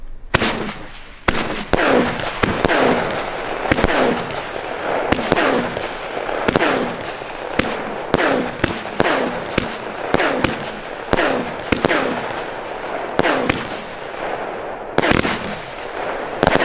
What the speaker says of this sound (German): Das ist eine 16-Schuss-Batterie